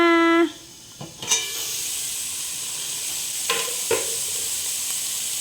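Beans fry in a pan and are stirred, giving a steady, close sizzling hiss with a few scraping stir sounds, after a short tone at the start.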